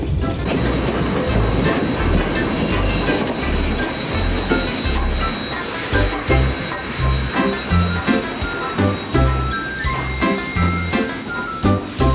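A train rumbles along the rails toward Battle Creek, Michigan, its rhythmic clatter growing into a steady pulsing clack toward the end, loud and close.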